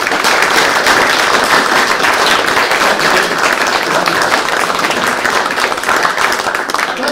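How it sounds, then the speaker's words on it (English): An audience applauds to welcome Paul Kerensa to the stage, a loud, sustained burst of many hands clapping with scattered sharper claps, continuing evenly throughout without speech. "Ladies and gentlemen, big round of applause for Paul"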